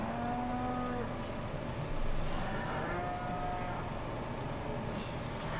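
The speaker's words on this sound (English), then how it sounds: "Feed our beautiful cows." Cows mooing in the Farming Simulator 2015 video game, two long drawn-out lowing calls a second or so apart, clear over a steady low background hum, with no talking.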